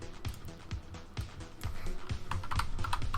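Rapid typing on a computer keyboard sounds as crisp, close key clicks in an uneven rhythm that grows denser and louder toward the end, with no speech.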